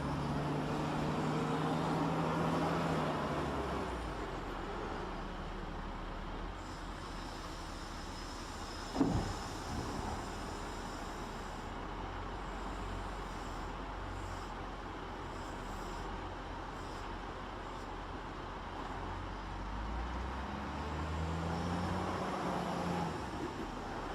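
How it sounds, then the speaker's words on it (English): A wheeled loader travels a long distance between loading and dumping, a steady diesel engine drone with rising and falling revs and one brief clunk near the middle, heard from a moderate distance. "Here is another wheeled loader. In this case, the distance between loading and dumping is quite large."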